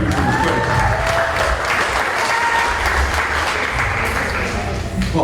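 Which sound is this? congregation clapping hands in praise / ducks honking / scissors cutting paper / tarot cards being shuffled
congregation clapping hands in praise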